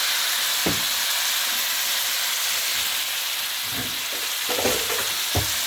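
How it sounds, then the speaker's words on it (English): A sizzling lobster pan deglazed with Marsala wine, hissing in a loud, continuous, broad sizzle with a few low knocks of the pan or utensil. "We're going to finish this off and deglaze it with some Marcella wine."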